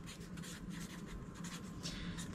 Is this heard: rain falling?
no